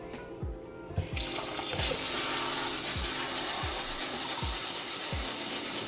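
Tap water runs steadily while something is rinsed off in a kitchen sink, a continuous near splashing hiss with a few dull knocks and thumps underneath.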